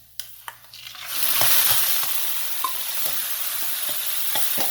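About 300 grams of chicken is fried with salt, turmeric, red chilli and coriander powder in a pan, with a few sharp clinks before a loud, steady sizzle rises and keeps on, broken by occasional scrapes of stirring.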